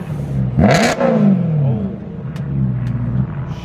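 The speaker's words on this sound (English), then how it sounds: "A little rev." A BMW M3 engine gives a loud, close rev that rises sharply and falls back, followed by a settling idle with faint clicks.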